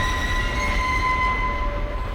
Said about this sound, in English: the sound of the train just gets really loud and intense